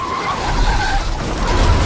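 A car skidding with tires squealing as it is rammed, a sustained harsh scraping roar with a wavering squeal, loud and close throughout.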